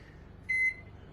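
A microwave oven in a home kitchen heating food gives a single short, clear electronic beep over a faint low hum, close and quiet.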